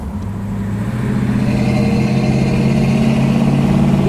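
A 1968 Pontiac Firebird with a 400 engine, driven on a Hong Kong street, gives a loud, steady, deep exhaust rumble that swells slightly after the first second and then holds close and constant.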